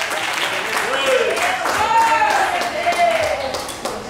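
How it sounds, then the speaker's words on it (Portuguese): Congregation at an IPDA church service in Santana, São Paulo, clapping strongly to welcome the pastor, a steady crackle of many hands under voices and reverberant room tones. "vamos receber o pastor com palmas bem forte"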